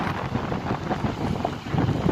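Gusty wind outdoors at a salad-greens field on a cold day of mixed rain and sun buffets the microphone in uneven, rushing surges with no voices.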